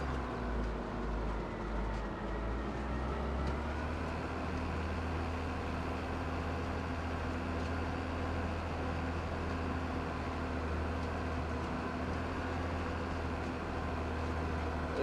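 A tractor pulling a planter across a farm field runs at a steady, continuous drone with a deep engine hum, loud and unbroken throughout and with no talking.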